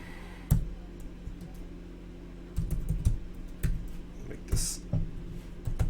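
Typing on a computer keyboard, with clusters of sharp key clicks in irregular bursts over a steady low hum, close and moderately loud.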